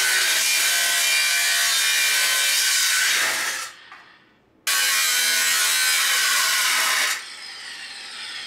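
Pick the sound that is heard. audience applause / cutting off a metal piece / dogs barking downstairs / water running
cutting off a metal piece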